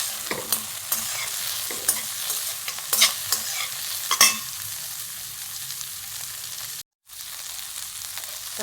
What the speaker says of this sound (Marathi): आणि हे लवंग, तमालपत्री, सगळं काजू टाकून घेते. चांगलं परतायचं बारीक गॅसवर.